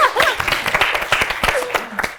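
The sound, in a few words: audience applause at a quiz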